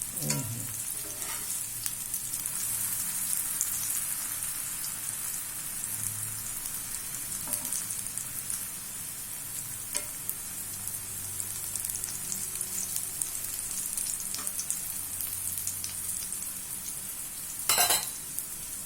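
Thin slices of eggplant fry in a pan, giving a steady, close sizzle and crackle that lasts throughout, with a few brief stirring clatters and no talk.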